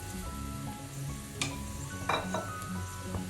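Chopped garlic with green chilies sautéing in a pan, a constant close sizzle broken by a few brief scrapes and clinks as it is stirred.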